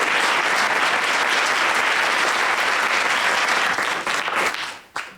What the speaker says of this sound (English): if you want to give a round of applause.